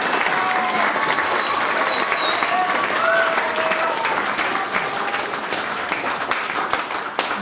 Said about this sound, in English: big round of applause for Debbie.